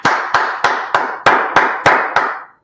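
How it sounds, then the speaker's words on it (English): Eight sharp, evenly spaced claps ring out in a slow, deliberate rhythm from a class audience, each hit crisp and close with a short decay. "Let's clap it up."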